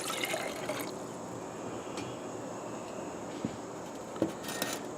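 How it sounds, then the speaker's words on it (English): One cup of water is poured into a pot on a small BRS camping stove, a faint, quiet trickle and splash with a few soft knocks, heard alone. "So I got 1 cup of water. I'm going to pour that in here."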